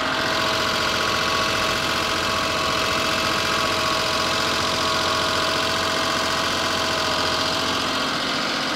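Cogeneration engine idling while warming up, a steady close mechanical drone with constant vibration and a faint knocking undertone, running alone without voices.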